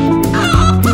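A rooster gives a brief, close clucking call, one short throaty burst lasting about a second over music, with no talking.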